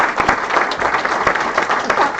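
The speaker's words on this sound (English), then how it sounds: "this lot deserve a round of applause for the work they've done." A room of people applauding a hospital improvement project team, dense continuous clapping with a few sharper individual claps standing out, close and fairly loud.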